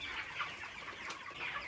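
Hens fed fly larvae on a farm in DR Congo cluck softly and continuously, a faint steady flock murmur with scattered brief calls throughout.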